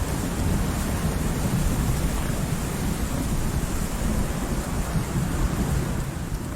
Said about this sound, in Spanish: Por fin, llegan las lluvias.